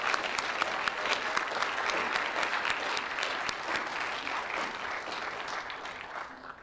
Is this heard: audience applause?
yes